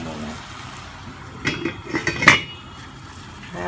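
A pot lid set down over boiling Indomie noodles on the stove, a short cluster of metallic clinks and clatters with one sharper clink near the end, amid quiet kitchen background.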